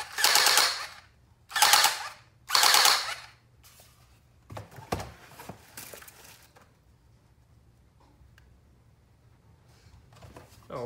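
An Amazon gel blaster firing three loud rapid bursts of full-auto fire close up, each about a second long, followed by softer clicks and mechanical handling noises.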